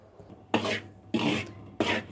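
Flour roasting over low heat in a pan for flaxseed laddu, with three distinct bursts of scraping and rasping as a spoon stirs it, separated by short quiet pauses.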